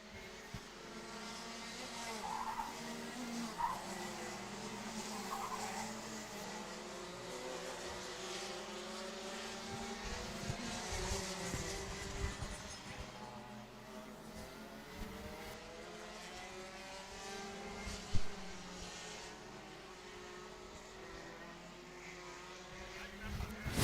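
Rotax Max racing karts race through hairpin bends at a national karting championship, a steady layered buzz of two-stroke engines with rising and falling pitch as they pass, continuous across the clip, with faint commentary underneath.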